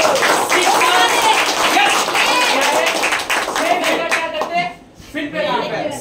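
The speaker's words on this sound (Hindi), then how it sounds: "वेरी गुड तालियां" Audience applause during a Hindi business motivational talk, a dense steady round of clapping lasting several seconds with a brief dip near the end, mixed with crowd voices.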